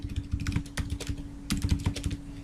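Quick, continuous typing of PHP code on a computer keyboard, close and crisp with dense irregular key clicks and no talking.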